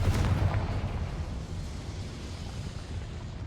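A Confringo blasting spell from Hogwarts Legacy erupts in a loud, low booming blast that rolls off into a sustained rumbling decay, with no voices present.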